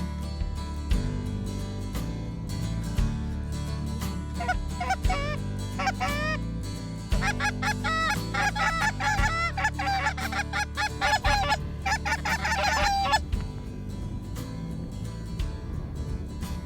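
A flock of geese flies in during a Michigan goose hunt, giving repeated loud honks in bursts over a low steady background rumble.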